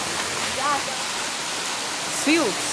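A waterfall on Madeira pours over a road, a loud, steady broadband rush of falling water heard up close, with brief voices rising over it at moments.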